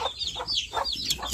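Gilmore Hatch gamefowl clucking at close range on a farm, a steady run of short overlapping clucks and calls with no pause.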